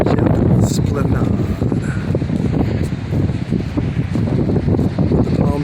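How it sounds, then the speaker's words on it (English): Strong wind gusts through palm trees in a steady, roaring rush with rustling fronds and microphone buffeting, while someone talks over it. "The palm trees swaying in the wind, they're ready to blow over, man. The wind's so hard."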